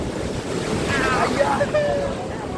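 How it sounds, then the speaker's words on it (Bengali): Sea surf rolls in at a beach where friends are swimming far from shore, making a broad, continuous wash of waves mixed with gusty wind buffeting the microphone and faint distant voices. "এই দেখুন পিছনে সমুদ্র"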